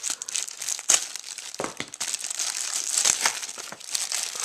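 Scissors cut and crinkle through thick plastic packaging around an Elgato Game Capture HD unit, giving dense close crackling and tearing with short snips, steady and fairly loud throughout.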